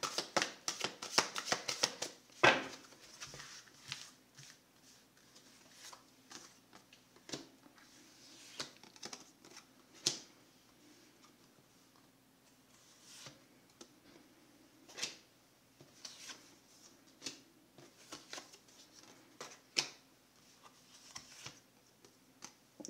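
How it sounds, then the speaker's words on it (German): Oversized cards are shuffled by hand in a quiet room, giving an uneven run of soft riffles, slaps and taps. A busier cluster comes at the start, followed by scattered lighter handling, with no talking. "Die Karten sind so riesig, dass ich die bald nicht richtig mischen kann."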